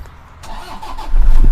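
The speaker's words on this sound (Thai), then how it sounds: "ฟังเสียงเครื่องยนต์ได้นะครับ" A Toyota Vigo 2.5 E diesel pickup engine cranks briefly and catches, settling into a low, rumbling idle close by.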